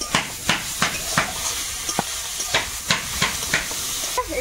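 Grated ginger goes into a hot pan of sizzling lentil mixture with sugar and turmeric. A soft steady sizzle runs under about a dozen rhythmic scrapes and taps of a spoon stirring close by.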